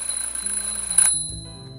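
Beeping smoke detector alarm in a point-and-click adventure game, a steady electronic tone with game music underneath, lasting about a second before cutting off.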